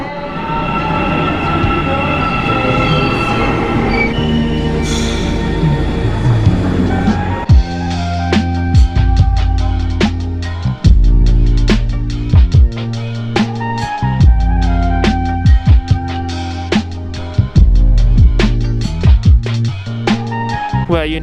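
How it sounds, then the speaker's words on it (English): Almaty metro train in motion, heard from inside the carriage: a loud, steady rumble that shifts after a few seconds into a run of repeated sharp rail clicks and thumps, with no talk. "We're now riding the metro downtown."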